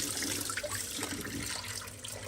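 Water pours steadily into a pot of rice for a pork risotto, a continuous close splashing rush that runs without a break and with no talking.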